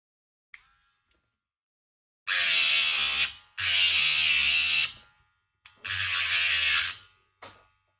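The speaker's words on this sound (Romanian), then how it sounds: "Am tăiat șuruburile" A power cutting tool slices through rusted screws on an old Nintendo console, giving three long, loud, high-pitched whining bursts, each a second or more, separated by short pauses and brief clicks, close up.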